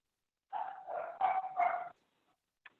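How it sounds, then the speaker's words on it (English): A dog barks in a burst of several close, moderately loud barks with a short whimpering tail. It sounds from a room picked up over a remote call, and faint noises follow. "We're hearing his dog barking."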